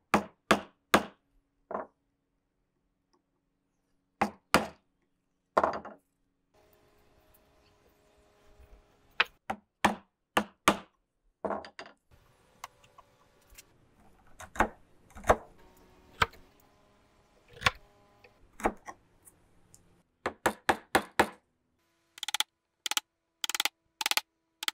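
Chisel chopping down into wood to cut a cogged lap joint: sharp, loud mallet strikes in quick bursts, separated by quieter stretches of paring and scraping, ending in a rapid run of blows.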